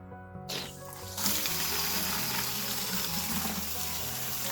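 Water gushes steadily into a container for making nettle fertilizer tea, starting with a thin trickle that swells into a loud, continuous close-up rush.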